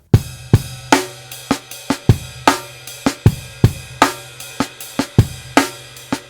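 A drum groove of kick and snare alone, no hi-hat, plays a syncopated breakbeat at a moderate tempo, clear and up close.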